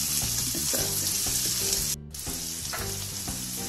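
Onions frying in oil for suji upma, heard as a loud, steady hiss and crackle under rhythmic tonal scraping of a spatula against the pan, broken by a brief gap near the middle.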